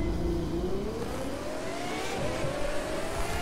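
A Pagani Zonda R engine revs and climbs steadily in The Crew 2 racing game, its rising pitch loud and continuous throughout with no talk over it.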